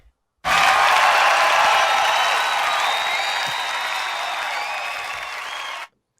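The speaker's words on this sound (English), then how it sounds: "Let's give a big round of applause, please, to Aleko Escuderian." A podcast studio audience breaks into applause to welcome a guest, a sudden burst of dense clapping with some cheering that holds loud for about five seconds, fades slightly, then cuts off.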